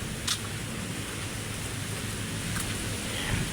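Morning rain falls steadily over Manila Bay, a constant soft hiss of drops on surfaces with no voices heard.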